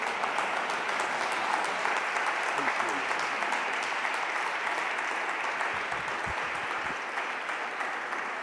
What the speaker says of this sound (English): Let's bring him up with the standing ovation and a round of applause.